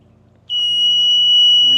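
A septic system pump alarm sounds with a loud, steady high-pitched tone that starts abruptly about half a second in and holds continuously over a low background hum.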